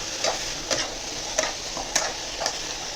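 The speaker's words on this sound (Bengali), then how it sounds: "এবার একটু ফ্রাই হচ্ছে" Chopped tomatoes frying in a pan, a soft steady sizzle broken by five evenly spaced scraping strokes of a spatula, fairly quiet and close, with no talking.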